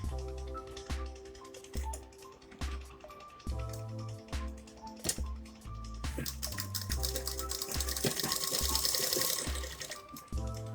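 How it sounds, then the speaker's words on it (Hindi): Sewing machine stitching a crop top, running in bursts of fast mechanical whirring with pauses between them, the machine sound building steady and loud toward the end. "अब इस पे सिलाई लगाएंगे उल्टा करके यूं"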